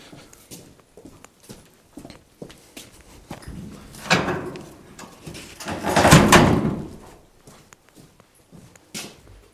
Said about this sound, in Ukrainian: Двері закрию.